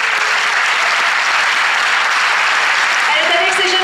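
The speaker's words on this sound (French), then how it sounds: "Donc elle mérite vos applaudissements" Steady, dense audience applause fills the hall at the Miss Côte d'Or 2018 pageant, clapping for the choreographer; it is loud and continuous throughout, with a faint voice or tone rising near the end.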